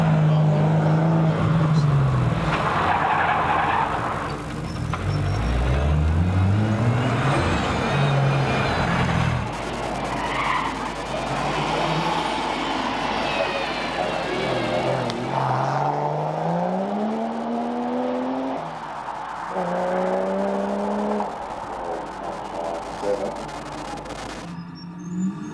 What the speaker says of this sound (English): As you see the Cressida of Jake Bembele making its way to the top of the hill